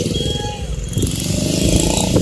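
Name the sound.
motorcycles and vehicles passing on a road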